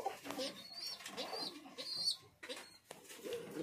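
Fancy pigeons in a breeding loft give soft, irregular coos and bird calls with a few higher chirps, fairly quiet and close, over faint background rustle.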